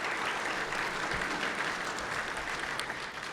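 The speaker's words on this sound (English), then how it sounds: "So give everyone a round of applause" Audience at an annual chamber of commerce awards dinner in Lawrence County, Ohio, applauding steadily throughout, a dense wash of clapping filling the room at close range with no voices standing out.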